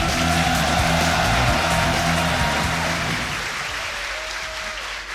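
An excited crowd at the Yu-Gi-Oh! World Championship semi-final claps loudly in a dense, continuous roar, with a low musical hum underneath that thins out as the applause slowly fades toward the end.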